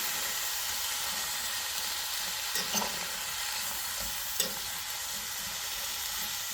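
Cabbage and bacon fry in a pan with a steady, even sizzle and hiss, broken by a couple of brief clinks or stirs, and no voices.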